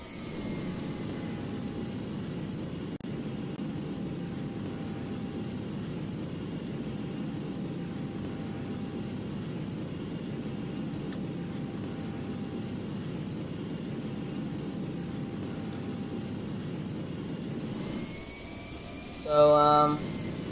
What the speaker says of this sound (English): 787 from Air Canada